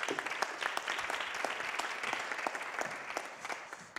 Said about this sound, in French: On applaudit Roxane.